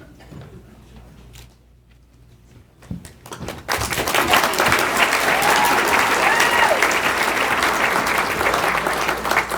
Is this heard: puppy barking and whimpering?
no